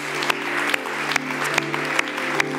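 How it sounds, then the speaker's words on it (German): A church congregation claps in a steady, rhythmic beat, roughly two claps per second, over a sustained low musical tone. "wir wollen dir heute Morgen wirklich einen Applaus geben"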